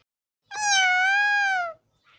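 A single clear cat meow in a Minecraft-style game rises and falls over about a second, loud and close with no talking.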